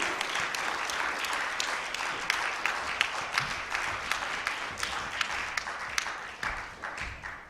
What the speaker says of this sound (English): I need a big applause for what he does.